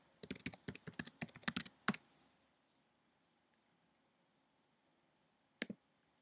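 A burst of quick keystrokes on a computer keyboard as a password is typed, about a dozen close, crisp clicks over two seconds, then near silence and one final key press.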